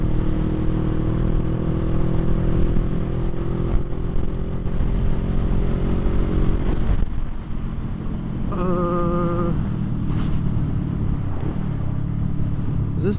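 A 2021 Honda Rebel 500 SE motorcycle engine rumbles steadily while riding, with a brief dip and rise as the throttle is cracked, heard close with wind noise over the microphone.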